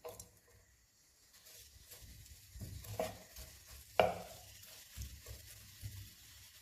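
Shallot sizzles softly in extra virgin olive oil in a pan, a quiet frying hiss broken by a few stirring scrapes and light knocks.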